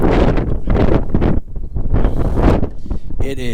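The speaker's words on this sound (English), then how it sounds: "It is just stupid windy" Strong gusty wind buffets the microphone outdoors near a parked truck, loud roaring bursts that rise and fall unevenly, with a brief faint voice at the very end.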